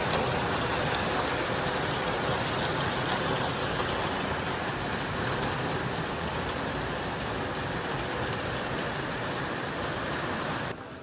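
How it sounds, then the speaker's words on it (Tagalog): Heavy rain pours down steadily in a dense, loud, even hiss that holds throughout. No one speaks, and the rain drops slightly in level at the very end. "Lakas na naman po ng ulan."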